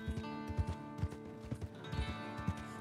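Horse hooves clip-clop in a steady walking rhythm in the video game Red Dead Redemption 2, close and crisp, over a sustained musical backdrop.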